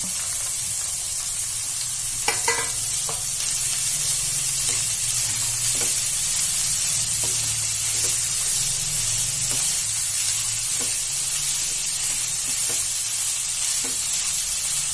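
A Marathi-style tempering with turmeric added, for a dish of chickpeas and kanak bamboo shoots, sizzles steadily in a pan, with a spoon tapping and stirring in light, scattered clicks throughout.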